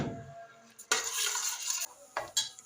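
Garlic sizzles in a hot pan for Egyptian koshari, with a sharp burst of frying hiss as it hits the oil, then scraping stirs and fainter sizzling with a couple of spoon clinks.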